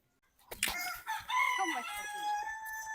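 Chickens on a Gambian farm, with a rooster crowing loudly and close by, its drawn-out call sustained over scattered clucking from the poultry.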